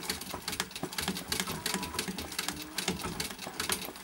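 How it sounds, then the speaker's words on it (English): Vintage treadle sewing machine doing free-motion embroidery, stitching slowly with a steady, soft mechanical patter of rapid clicks at close range, no voices. "See how slow I can make the treadle go?"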